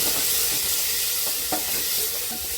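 Turmeric and masala are stirred in a hot pan for coconut milk sambar, giving a steady sizzling hiss with a few faint scrapes of the spoon, close and without talk.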